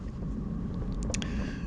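A north wind buffets the microphone during a group bicycle ride, a constant low roaring rush with faint chatter and clicks, steady and unbroken over a short span.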